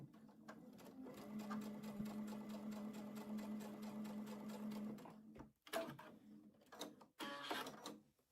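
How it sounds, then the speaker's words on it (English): A sewing machine pieces two small quilt blocks together with a quarter-inch seam, running in a steady, close, humming whir for about five seconds before stopping, followed by a few short handling rustles. "we're just going to piece these two little blocks together."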